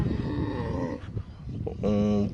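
Cattle low and moo nearby at a busy village cattle market, with voices chattering around them; a longer, steadier moo rises near the end.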